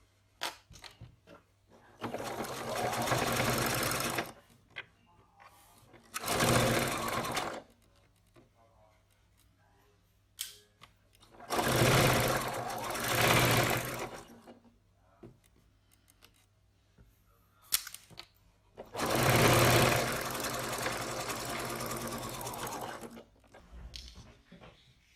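A sewing machine runs in several short bursts, stitching the top edge of a folded fabric pocket, its muffled rattling hum coming close and at moderate volume with brief quiet gaps between.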